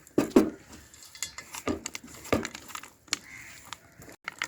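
Peanuts and milk being mixed and kneaded by hand in a bowl, heard as a few scattered clinks and scrapes of dish and spoon with soft crunchy rustling between them, near and alone.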